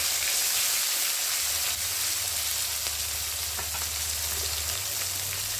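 Onion, tomato and green chilli sizzling in hot oil in a pan, a steady close hiss and crackle that runs without pause and with no talk.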